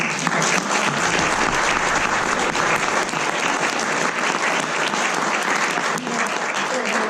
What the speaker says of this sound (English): let's give a round of applause to this panel